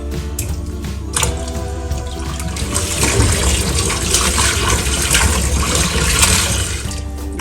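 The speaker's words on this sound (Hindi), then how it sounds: "चलिए चिकन को धो लेते हैं।" Raw chicken for Lucknowi biryani is washed under steadily running tap water, a loud, close, continuous rush of water splashing for several seconds with no talk.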